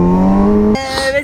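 Motorcycle drifting on a race circuit: a loud, near engine holds a steady high whine, then the pitch drops abruptly as revs change, with a brief rasping, squeal-like edge.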